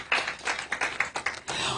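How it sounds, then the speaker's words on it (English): A short round of audience applause at a press conference in Lagos, a quick flurry of sharp, close claps that stays steady throughout. "a round of applause, ladies and gentlemen"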